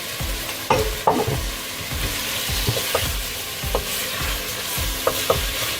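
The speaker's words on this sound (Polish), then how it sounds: "Chwileczkę go tylko podsmażymy." Tomato paste sizzles in a pan while a spoon stirs it, producing a continuous frying hiss with soft rhythmic scraping thuds and a few sharper knocks, close and moderate in level, no speech.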